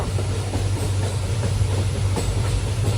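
A train runs near the Dudhsagar waterfalls, its carriages giving a loud, continuous low rumble with a rhythmic clickety-clack, heard from on board with no talk.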